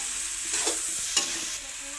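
Vegetables and peas cook in a pan with a steady, close sizzle. Two brief scraping stirs break through the frying hiss.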